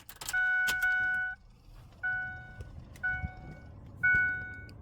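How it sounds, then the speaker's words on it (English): Warning chime from a 2007 Ford F150 instrument cluster under repair: a sustained two-tone electronic ding, followed by three shorter repeats at roughly one-second intervals, clear and close with faint handling noise between. "I'm gonna have to listen to the dinger again"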